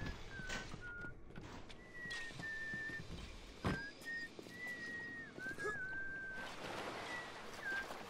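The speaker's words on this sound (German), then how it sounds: "Wer pfeift dir denn so doof?" Short whistled tones in BioShock Remastered rise and fall in several separate phrases, fairly faint over a low ambient game rumble, with one dull thud midway.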